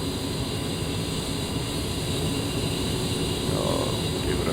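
A-10 jet engine spooling up in a flight simulator game, a steady broadband roar and whine that holds constant and loud throughout, with a slight swell near the end.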